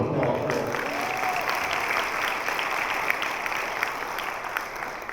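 A room of attendees at a community forum on stopping gun violence applauds, a steady, fairly loud wash of clapping that holds for several seconds and tapers slightly at the end.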